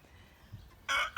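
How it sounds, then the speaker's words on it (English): Leghorn and gold-laced Wyandotte cross chickens give two loud, close, harsh bursts near the end, one long and one cut short, after a quiet stretch of faint low rumble. "those are the leghorn crosses, cross between leghorns and gold-laced Wyandotte"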